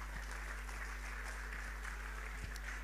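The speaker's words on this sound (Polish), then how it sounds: "wielkie brawa" Audience at a youth gathering applauding a presentation by nuns, even, sustained clapping from a crowd heard over a strong low mains hum, with a few sharper claps standing out.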